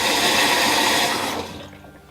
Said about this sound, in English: we're flushing all the sediment that's sitting on the bottom of the water heater